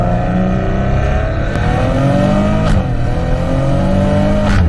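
A 2019 Maserati Ghibli's Ferrari-built 3-liter V6 revs steadily and loudly, pitch climbing and dipping through several pulls with sharp shifts between them, close and continuous.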